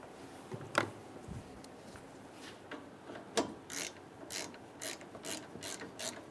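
A ratchet tightens a bolt on an AC condenser line of a 2003-2008 Honda Pilot, with a couple of isolated knocks followed by quick bursts of ratcheting clicks, close and fairly quiet.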